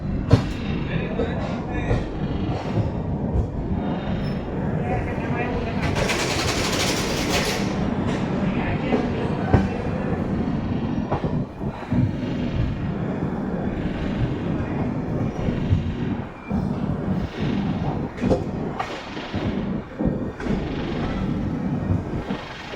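A loud, continuous rumble of the Saurashtra Janta Express train departing Keshod station, with steady rattling and a brief hissing burst early on, sustained throughout.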